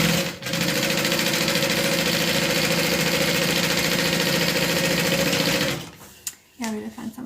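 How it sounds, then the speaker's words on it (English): A sewing machine sews flannel scarf layers together, humming loud and steady up close for several seconds before stopping, followed by brief handling noises and a short voice. "And then we're going to sew these together."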